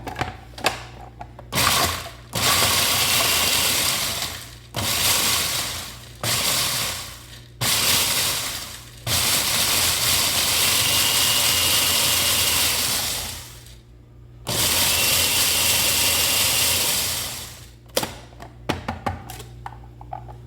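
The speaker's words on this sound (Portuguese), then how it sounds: "Então eu vou bater a bolacha para virar uma farofa." A food processor grinds gluten-free biscuits into crumbs in repeated loud pulses, whirring bursts of a few seconds separated by brief pauses, ending in short quick taps.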